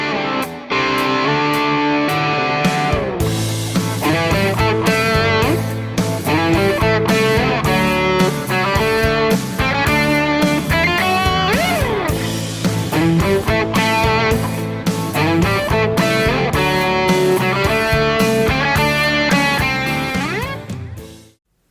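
Electric guitar played through a Northern Lights Germanium treble boost pedal into a tube amp, a loud, bright, driven tone with sustained chords and lead notes ringing continuously and fading out at the end.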